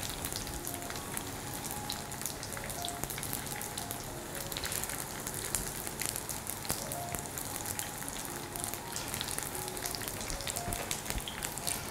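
Food pan-frying in oil, a faint, even crackling sizzle that runs steadily throughout with tiny pops and no speech.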